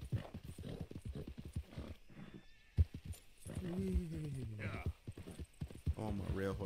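Horse in Red Dead Redemption 2, galloping hooves that clip-clop rapidly and then stop, followed by a drawn-out neigh, with someone talking over parts of it.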